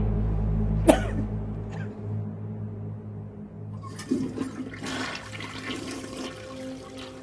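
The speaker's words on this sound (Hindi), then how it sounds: "उसका फ्लश लीक कर रहा है" A toilet with a leaking flush: a loud flush burst near the start, then a low running trickle and gurgle of water with a throat-clearing sound, followed by renewed splashing and rushing water toward the end.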